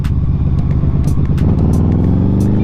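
A QJmotor Flash 600 V4 cruiser motorcycle engine runs with a steady, deep, throbbing rumble that stays loud and close throughout, with small rises in revs and no voices.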